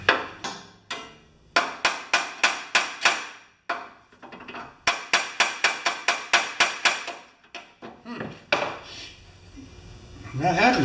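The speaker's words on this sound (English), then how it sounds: "it's not my normal hammer" A steel hammer taps repeatedly on a bent auger of a Snowking snow blower, sharp metallic strikes in quick bursts of several blows with short pauses, close and loud, without talk.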